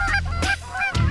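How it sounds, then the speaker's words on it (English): Geese honk in flight in New York fall hunting season, several loud, close honks in quick succession. "the geese are really starting to fly well"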